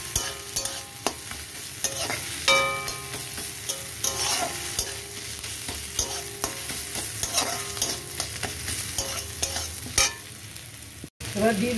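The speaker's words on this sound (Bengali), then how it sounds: "আদাটা ভালো করে এবার মিশিয়ে নেব।" Ginger stirred into fried onions in a hot pan, a continuous loud sizzle broken by repeated scraping and clinking strokes of the spatula, close up and without voices.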